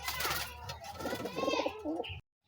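A young racing pigeon coos close up at a derby race loft, a few soft throaty warbling calls with a voice speaking underneath before the sound cuts off.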